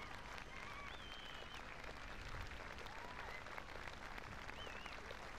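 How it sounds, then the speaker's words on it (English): A crowd at the Royal Norfolk Show applauds the RAF Falcons parachute display team outdoors. The clapping is faint and distant, a steady wash under open-air ambience with bits of announcer's voice. "Come on, let's give them a round of applause."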